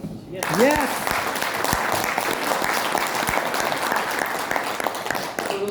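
An audience at a wellness business-plan meeting breaks into applause, a sudden onset that settles into full, sustained clapping across the room, continuing evenly until it tapers near the end.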